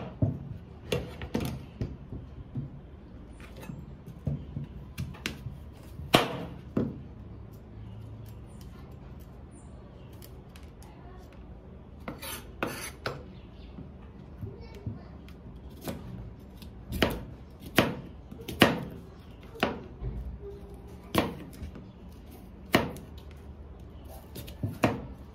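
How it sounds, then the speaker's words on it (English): A knife cutting an apple in half on a kitchen surface, heard as a series of sharp, close chopping knocks in irregular clusters with quiet gaps between them and no talk. "So I'm just going to cut half of this apple."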